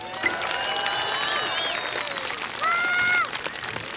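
Scattered applause from an outdoor crowd, mixed with whoops and cheering voices.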